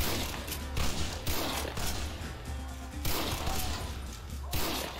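Gunfire in a Red Dead Redemption shootout, repeated loud shots and volleys in quick succession, with heavy booming thumps from nearby cover fire.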